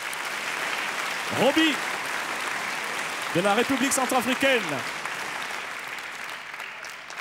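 Audience applause at a live opera show as candidates are called, bursts of clapping rising and falling in short waves under a voice announcing names and countries.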